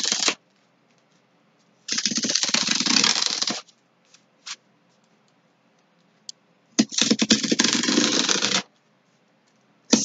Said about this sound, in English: I'm just going to cut those out really fast. Use the X-Acto knife.